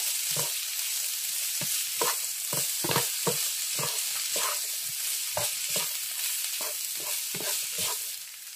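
Fried rice is stirred in a frying pan after a seasoning cube goes in, with a spoon scraping and knocking in a steady rhythm of about a dozen strokes over a continuous sizzle.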